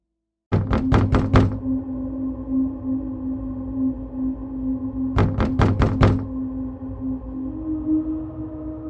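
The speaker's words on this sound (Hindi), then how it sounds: "दरवाजे पर दस्तक होती है।" Knocking on a door opens a horror story scene: four sharp, loud raps ring out, then after a pause of a few seconds a second group of about five raps follows over a low, droning eerie background.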